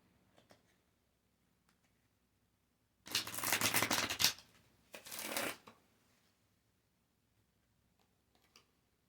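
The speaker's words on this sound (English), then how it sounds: "I've never had them fly out like that while I was shuffling, mid-shuffle." Riffling tarot cards shuffled nearby, with a long loud burst and then a shorter second riffle, set off by faint taps and near silence on both sides.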